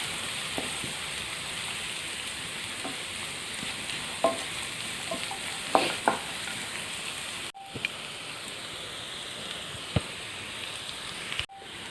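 Coconut pieces fry and get stirred in a pan for Kerala-style beef roast, making a soft, even sizzle with scattered small pops and crackles and a couple of brief cut-outs.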